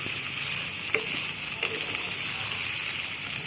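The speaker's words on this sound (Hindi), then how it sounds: "बिल्कुल लो फ्लेम पर इसे फ्राई करेंगे ताकि इसका मसाला जले नहीं" Stuffed green chillies filled with masala fry steadily in oil over a low flame, a soft continuous sizzle with two faint clicks of a utensil against the pan.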